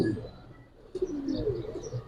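Giribaz high flyer pigeons coo softly at close range, a few low throaty calls with light chirps, faint at first and then fuller after a brief rustle.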